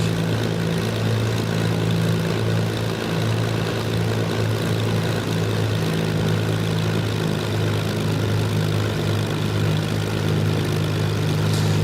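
A Supermarine Spitfire Mk Ia in Microsoft Flight Simulator runs its propeller engine with a loud, constant droning roar, steady low hum and airy rush throughout, with no voices.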